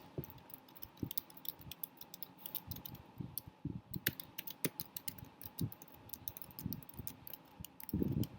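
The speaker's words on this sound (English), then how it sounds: "let me just type the whole thing down." Typing on a computer keyboard during a lecture, a quiet irregular run of sharp key clicks in uneven bursts, close and faint, with no speech.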